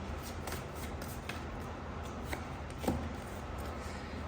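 Tarot cards are shuffled and drawn during a reading, heard as faint, soft riffling and light papery taps, quiet and close, with no talking.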